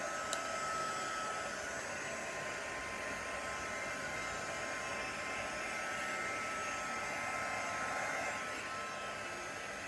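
A handheld heat tool blows nonstop to dry alcohol ink paint on craft tags, giving a steady, moderately loud airy roar that holds for the whole stretch. No talking.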